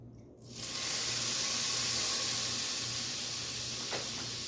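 Vegetables with olive oil and soy sauce hit a hot pan and burst into a loud, steady sizzle that holds broad and unbroken after a brief quiet start, with a small crackle near the end.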